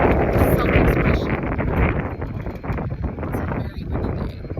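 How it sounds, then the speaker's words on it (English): Gusty wind buffeting a microphone outdoors, producing loud, low rumbling bursts that rise and fall across the whole stretch. "It's a very windy day."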